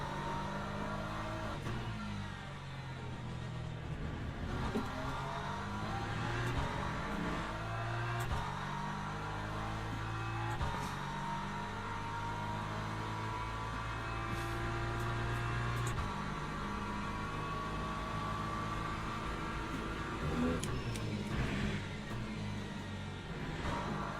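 An LMP2 prototype race car in the Le Mans Ultimate sim at Paul Ricard, engine droning and revving steadily with shifting pitch as cars run past over a long stretch, no talking.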